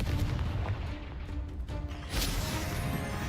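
Confringo blasting spells burst in the Hogwarts Legacy video game, a dense, continuous roar of booming impacts with a sharp crash near the middle, loud and close, with no talk.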